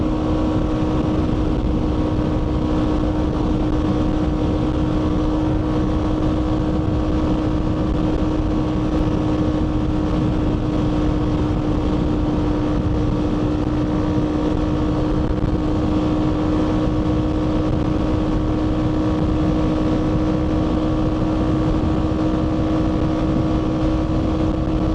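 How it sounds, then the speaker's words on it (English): Steady, loud wind roar and engine drone from a GPX FSE250e motorcycle ridden at about 60 mph on the road with no front fairing, a continuous broadband rush with a constant low hum throughout. "Quite a lot of wind blast at the moment, obviously with no protection as such at the front"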